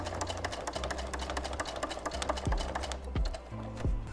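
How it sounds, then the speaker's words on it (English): A Brother SE625 sewing machine stitches along the edge of a patch on a jacket, a fast rapid clatter of needle strokes that pauses briefly and restarts, close and fairly quiet. "Now I'm gonna go ahead and stitch around along the bottom edge of the patch."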